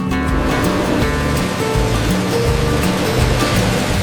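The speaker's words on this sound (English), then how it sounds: "The beans must cool immediately. Powerful fans stop the roasting process." Powerful cooling fans blowing over freshly roasted coffee beans in a large industrial roastery, a loud, dense, continuous rushing roar with a low churning undertone, steady throughout with no voices.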